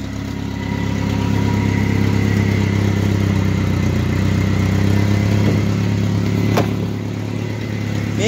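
Close up, a 2.3 Ford Ranger four-cylinder idles with an exhaust leak, a steady low throb carrying a ticking, puffing pulse, with a couple of faint sharp clicks late on.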